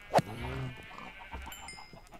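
Blocky cows in the Minecraft video game give a single sharp low moo near the start, followed by softer game ambience with faint clicks and a few thin tones, quiet overall and without speech.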